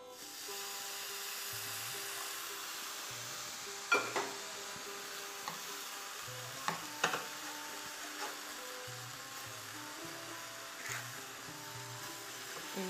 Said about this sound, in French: Et on bien mélange le tout